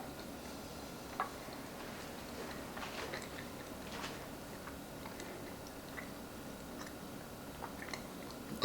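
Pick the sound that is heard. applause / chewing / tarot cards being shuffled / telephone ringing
chewing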